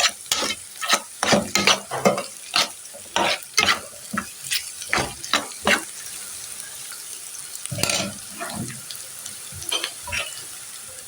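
Onions fry in a pan while being stirred, with a rapid series of close scraping and clattering strokes of a utensil over a faint sizzle, then a short pause and a few more scrapes.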